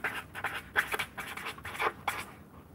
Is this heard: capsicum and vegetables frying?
no